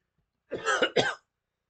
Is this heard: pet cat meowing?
no